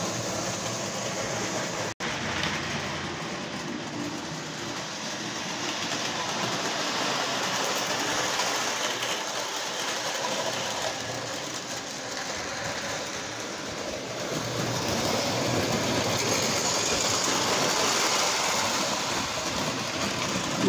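A model train engine runs steadily for the whole stretch with a continuous mechanical whir and rumble at moderate level, rising slightly toward the end, with no voices over it.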